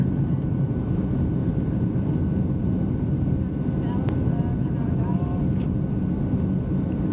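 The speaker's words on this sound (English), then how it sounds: "Okay, we're still on the runway. We haven't got lift off yet, but it won't be long." Airplane engines roar steadily during the takeoff roll down the runway, a loud continuous broadband rumble heard from inside the cabin, with people talking over it.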